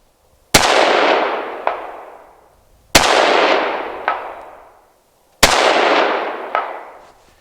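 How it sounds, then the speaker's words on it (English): Three evenly spaced rifle shots from a 22-250 Remington Tikka T3 Varmint fired at a 300-yard target, each a sharp loud crack with a long rolling echo and a faint distant impact about a second later. "Second set of shots at 300 yards using the CDS dial"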